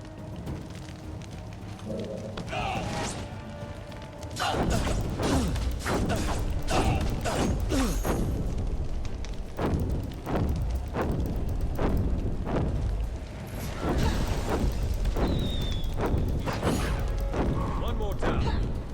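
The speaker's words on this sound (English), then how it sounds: "Sound like fireworks." Repeated booming bursts like fireworks going off in the video game Dungeon Siege 3, a steady series of loud crackling blasts over a dense game soundscape, with voices talking in places.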